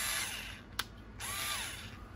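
A SpeedTek RC electric mini screwdriver with a light and quarter-inch bits whirs steadily up close, briefly stops with a click, then runs again in the other direction.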